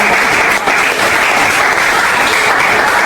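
An audience claps loudly and steadily for a group of performers, a dense, continuous wash of applause with no break over the whole stretch.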